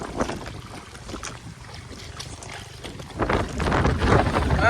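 Strong wind roars and buffets the microphone in gusts, a loud continuous rushing that swells toward the end.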